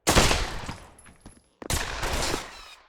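Loud, close automatic gunfire in the VR shooter Pavlov VR: a dense burst of rapid shots, a brief pause, then another sustained burst, with no talking.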